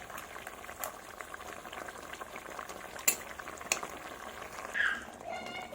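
Fish head curry broth with spinach, brinjal, tomato and potato simmering in a pot, a steady low bubbling and sizzling texture with a few sharper pops, close and fairly quiet throughout.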